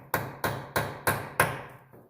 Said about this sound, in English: So what we're going to do is we're going to take the hammer.